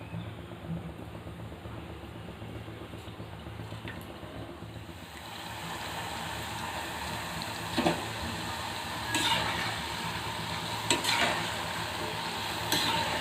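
Maida kajada sweet snacks deep-fry in oil, a continuous soft bubbling sizzle heard up close, with occasional louder crackles and faint clinks of a utensil in the pan.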